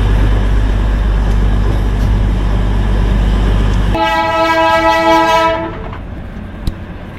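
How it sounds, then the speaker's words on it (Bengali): The Darjeeling toy train runs through forest from Siliguri toward Rongtong, a loud, steady rumble of wheels and carriages broken by a long horn blast midway before the noise eases. "আমাদের টয় ট্রেন আপাতত এগিয়ে চলেছে রংটংয়ের পথে"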